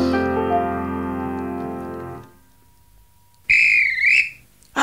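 A postman's whistle sounds as two calls: first a long steady tone with rich harmonics fading after two seconds, then, after a short gap, a higher, shrill, wavering whistle blast, near and clear with no talking.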